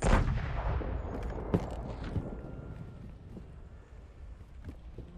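A heavy in-game warship cannon boom bursts out at the start and rumbles away, followed by a couple of fainter distant thuds over windy background noise.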